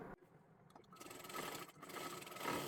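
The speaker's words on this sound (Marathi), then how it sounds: "इथे आपल्याला परत एकदा डबल शिलाई मारून घ्यायची आहे." A sewing machine runs a double line of stitching on fabric for a girl's one-piece dress, its motor whirring steadily and growing louder after a brief quiet start.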